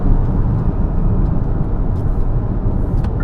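Skywell BE11 Long Range electric car driving through bends, with a steady, loud low road and tyre rumble throughout and no voices.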